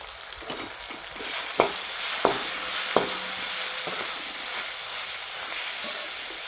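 Dal tempering with masala spice fries in hot oil, a dense continuous sizzle with a few sharp spoon taps against the pan, close up and with no talking.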